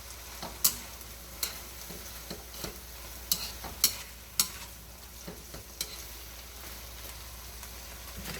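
A spatula stirs mixed vegetables in a hot pan, giving scattered crisp clacks against the metal at uneven intervals over a low background sizzle.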